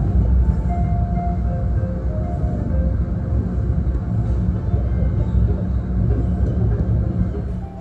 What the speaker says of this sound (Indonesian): Sekarang keretanya sudah mulai bergerak meninggalkan stasiun Jatinegara